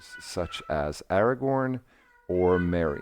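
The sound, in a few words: pet cat meowing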